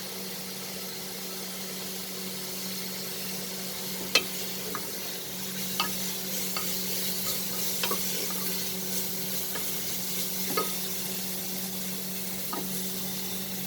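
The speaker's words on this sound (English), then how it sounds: "let's saute this till the raw smell of the spices disappear" Spices for chicken and lentil curry sautéing in a pan, a steady soft sizzle with a low hum beneath and scattered sharp clicks of a spoon against the pan, no voices.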